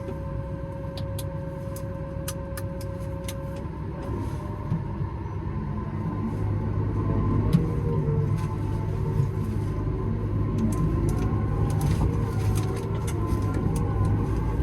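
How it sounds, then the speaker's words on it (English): A van fitted with boom suspension drives over bumpy ground, a continuous low engine and road rumble inside the cab with sharp rattles and knocks scattered throughout and a slight swell in loudness midway. "we'll just go for a drive around, make sure that the boom suspension works"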